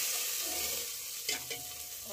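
Steady hissing sizzle of hot desi ghee tempering poured into bottle gourd and chana dal, with a brief stirring clatter partway through, close and continuous.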